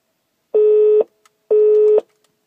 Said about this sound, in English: The number is being dialed.